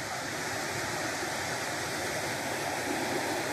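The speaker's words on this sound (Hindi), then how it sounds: "और यहाँ से ये लहरें हैं रिवर की" A river beside a resort in Tirthan Valley, Himachal, rushes in a steady, broad wash of flowing water with no breaks, heard alone at moderate distance.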